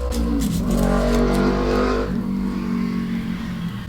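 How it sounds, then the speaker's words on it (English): A single car drives past a house outside, its engine rising loudly and steadily for about two seconds, then fading into a lower rumble as it moves away. "Quite literally so rude of that man who just drove by my house."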